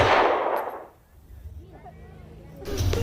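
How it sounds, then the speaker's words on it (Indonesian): A pistol fired into the sky during a comedy cabaret skit in a housing estate in Majalengka, with one sharp loud crack at the start that fades out, followed by quiet murmuring and then another burst of noise. "tiba-tiba terdengar suara pistol ditembakkan ke langit"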